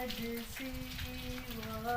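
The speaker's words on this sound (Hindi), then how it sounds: "पहली बारिश हुई है।" First monsoon rain of the season falls steadily, a continuous close patter of drops on surfaces with a sustained tonal hum running beneath it throughout.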